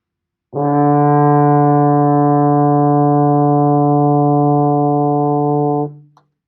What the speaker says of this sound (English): Play that D with me.